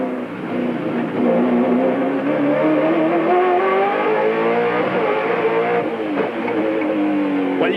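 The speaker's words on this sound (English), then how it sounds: "racing around the streets of Wellington with a great Aussie V8." A Ford Falcon V8 touring race car engine roars on the Wellington street circuit, a loud, sustained drone climbing steadily in pitch through the gears without reaching high revs, with a brief dip near the end.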